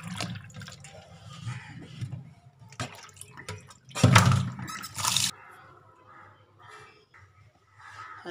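Tap water runs while mutton is washed in a home kitchen, giving irregular splashing and trickling at close range, with a louder gush midway and a faint voice in the background.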